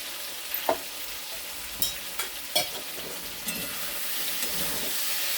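Vegetables with spices and jaggery frying in a pan, a soft continuous sizzle broken by a few sharp clinks and scrapes of a spoon stirring, close and without talk.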